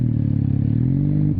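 A 1981 Kawasaki KZ440 motorcycle is ridden, its engine producing a loud, steady, buzzing drone close by that climbs slightly in pitch as it accelerates.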